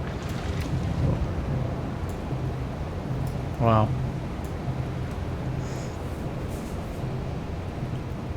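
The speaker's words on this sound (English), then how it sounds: "the sounds of the props is really cool." Submarine propellers turn in the UBOAT video game with a steady, low, droning churn that runs the whole time, while a voice briefly exclaims partway through.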